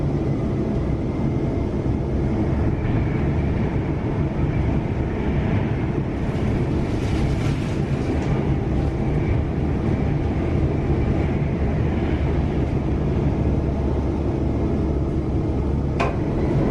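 A continuous low rumble of rail traffic at Lichfield Trent Valley station runs steadily throughout, with a brief sharp squeal or clank near the end and no voices.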